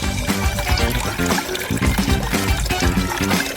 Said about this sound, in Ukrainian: Заливаємо все колою.